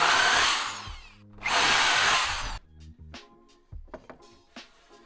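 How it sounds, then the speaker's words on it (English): A drill press bores holes in wood in two loud whirring bursts, each spinning up, running briefly and stopping, followed by quieter clunks and taps of handling the workpiece and tool. "and then drill the holes out."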